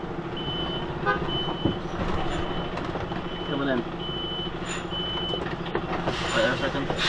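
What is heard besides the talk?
UK truck reversing beeps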